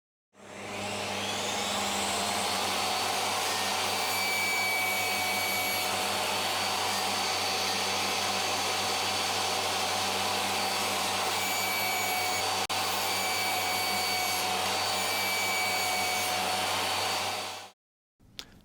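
A power tool cuts the corners off a wooden board for a lazy susan, giving a steady, loud motor whine that runs unbroken for about sixteen seconds and then cuts off abruptly.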